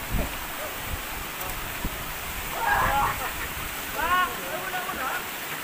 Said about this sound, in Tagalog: Yung agos ng tubig, makikita nyo rito.